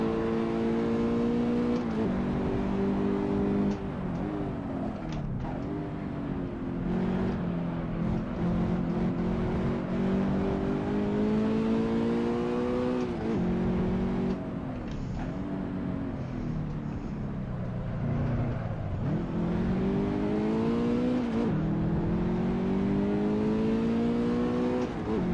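A Fiat Abarth in the Assetto Corsa racing game drives hard, its engine droning and revving up and down through gear changes and braking, loud and continuous for the whole stretch.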